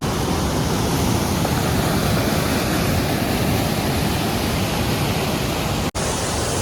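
A waterfall on a trekking trail in India roars as a steady, loud, broadband rush of falling water that stays constant throughout, heard alone and close by.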